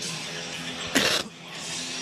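A single short, harsh cough, close and loud, breaking briefly through a quiet background hum during a live football game commentary stream.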